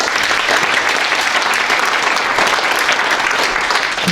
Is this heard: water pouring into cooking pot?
no